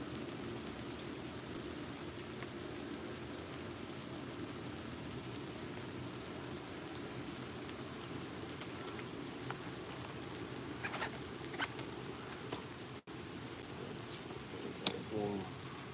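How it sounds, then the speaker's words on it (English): Steady rain falls outdoors beside the Wisconsin river, a soft continuous patter with occasional nearby knocks and small bird calls over it. "Stupid rain has to always spoil it."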